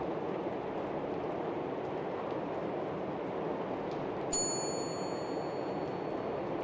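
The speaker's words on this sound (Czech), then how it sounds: "Stekli na zvoneček." A single bell ding in the horror video game Fobia, a bright ringing tone that rings out and fades over a couple of seconds above a steady low ambient rumble.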